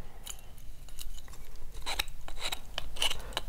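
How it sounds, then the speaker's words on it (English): Rasping file scrapes old rubber off a plastic jerkbait fishing lure, giving a run of short, fairly loud strokes in an uneven rhythm, close up with no voices. "we're gonna just actually file away and remove all of that rubber off there"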